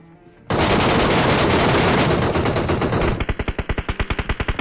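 An MK gun fires in a video game: a dense, loud sustained burst, then a string of distinct rapid shots in a steady rhythm, close and with no talk.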